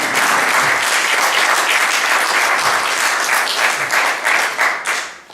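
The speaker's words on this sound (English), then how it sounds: "they deserve lots of applause" Loud, dense applause from an audience cheering a group of performers, sustained and even before tapering off near the end.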